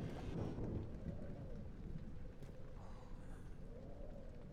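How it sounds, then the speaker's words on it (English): Low, rolling rumble of thunder over a steady wash of rain in Amnesia: The Dark Descent, heaviest at the start and easing into a constant stormy hiss. "I don't like that thunder."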